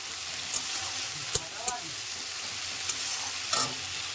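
Ginger-garlic paste frying in a pan with cabbage and prawns nearby, a steady close sizzle broken by a few sharp scrapes and taps of a spoon as it is stirred.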